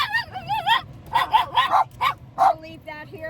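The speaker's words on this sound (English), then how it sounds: "Barky beasts." Dogs barking, yipping and whimpering up close in a quick run of excited barks and whines, several overlapping, with a brief pause before a final few yips.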